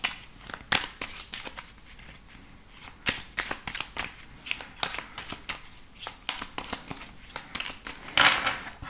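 Tarot cards are shuffled and cut by hand in a quick run of crisp riffling snaps and flutters, close and fairly loud, with no speech.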